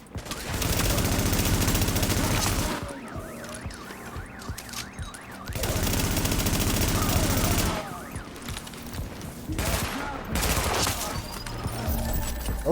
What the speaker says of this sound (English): Let's shot a rifle right now.